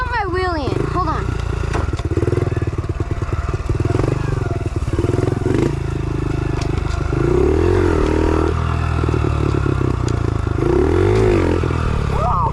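A 110cc pit bike engine revs hard during a wheelie, loud and close with rising and falling pitch sweeps, rattling clatter and bumps throughout, with voices talking at times.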